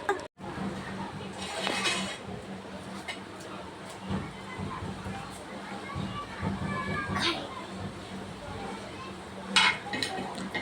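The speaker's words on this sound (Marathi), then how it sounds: "हे बघा अशा पद्धतीने सगळं मिश्रण व्यवस्थित मिक्स करून घेऊया" Wheat flour and jaggery mixture for churma ladoo being stirred and mixed by hand in a bowl, giving soft scraping and clinking utensil sounds over a steady kitchen background, with a few sharper knocks.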